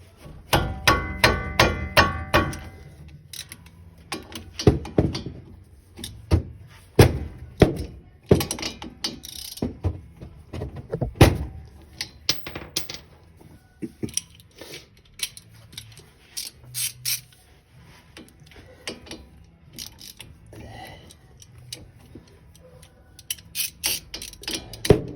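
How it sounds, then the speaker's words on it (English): A half-inch ratchet clicks and clunks while breaking loose a 14 mm front brake caliper bolt on a 2018 Mitsubishi Mirage G4, with rapid close-up bursts of pawl clicking and metallic knocks in uneven spurts, no talking. "I use my 1/2-inch ratchet to break it free."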